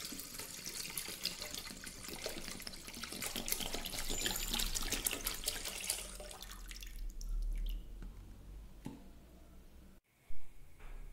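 Disinfectant poured into a pot in a home kitchen, a bright steady splashing stream that fades after several seconds, followed by quiet and a short clunk.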